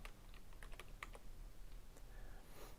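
Fingers tap out a quick burst of typing on a computer keyboard, a scatter of light, close clicks with short pauses, faint and without speech.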